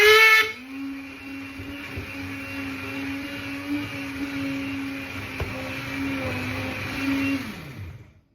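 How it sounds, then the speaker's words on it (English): A hand blender whirs steadily through a pan of spiced parsnip soup, a close, continuous motor hum with a faint pitch wobble, then winds down and stops at the end. "That's roughly a few minutes blending with the hand blender."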